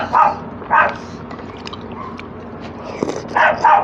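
A dog barks close by, a few sharp yips spaced out with small clinks and rustles in between, then two more barks at the end.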